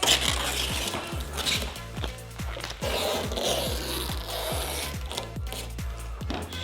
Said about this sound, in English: pull the string to the edge of the vinyl, then put your finger on it, then pull